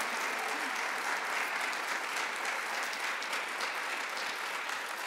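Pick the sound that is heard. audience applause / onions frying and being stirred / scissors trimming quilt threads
audience applause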